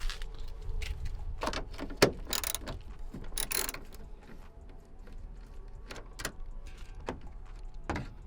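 A hand ratchet works loose 10 mm bolts on a Nissan 350Z tail light, giving scattered bursts of close clicking with sharp metallic ticks and pauses between turns.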